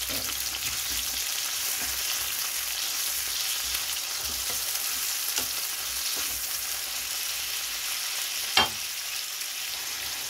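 Egg for scrambled egg with tomato sizzles steadily in a hot pan, a constant hiss with faint crackles and one sharp clink of a utensil near the end; no voices.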